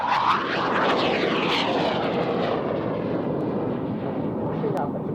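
Aerobatic aircraft pulling up into a quarter clover at the RAF Waddington airshow, a loud continuous engine roar with a sweeping, shifting pitch as it climbs, while an announcer talks over it.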